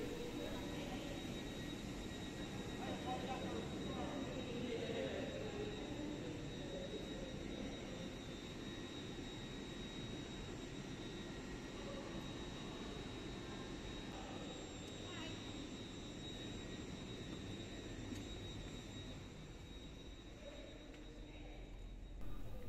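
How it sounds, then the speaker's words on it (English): Steady cabin roar inside a Hull Trains Class 802 Paragon train while travelling, a constant low rumble and airy hum that stays even throughout without speech. "Today we'll be travelling on one of Hull Trains Class 802 Paragon units."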